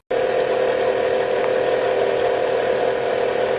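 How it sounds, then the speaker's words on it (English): An Xbox 360 console runs with a steady, loud mechanical whir and a constant fan-like hum, unchanging for several seconds with no voices. "Here's the sound of the Xbox 360."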